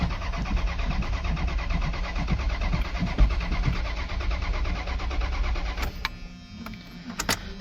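An old Dodge Power Ram 150 that sat for five years cranks over steadily, the starter's rapid rhythmic churn running for about six seconds before cutting off, leaving a few faint clicks and a brief whir near the end.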